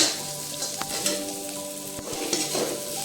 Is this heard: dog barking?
no